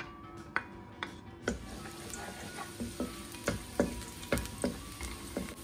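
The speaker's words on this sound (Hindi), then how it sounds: "सबसे पहले 2 से 3 टेबल स्पून ऑलिव ऑयल ले लेते हैं और उसमें चॉप्ड गार्लिक ऐड कर देंगे।" Chopped garlic sizzles in two to three tablespoons of olive oil in a pan, a steady close crackle with small irregular pops and stirring ticks, no talking.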